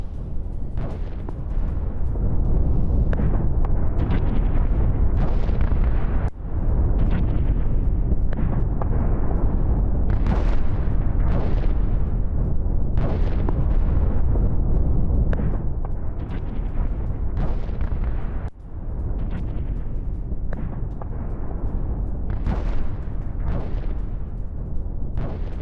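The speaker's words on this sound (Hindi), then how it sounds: "उत्तरी गाजा में सबसे विध्वंसक बमबारी" Heavy bombardment in northern Gaza, a dense stream of loud booming explosions and rumbling blasts that rise and fall continuously, with no clear talking over them.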